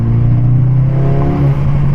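An Audi S3 8Y fitted with an AWE exhaust revs up close and loud, its engine note holding a strong steady drone throughout.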